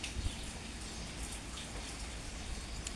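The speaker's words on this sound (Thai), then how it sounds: "ฝนตกปล่อยๆค่ะ" Steady rain falls over rice fields in the countryside, a dense, even hiss of drops that holds at a constant moderate level throughout with no voices.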